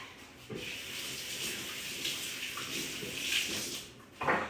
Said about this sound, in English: I'm gonna give my hands a quick wash after that